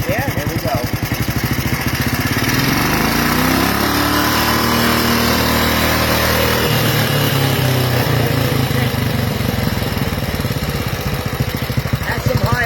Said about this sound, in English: That's some high RPMs right there.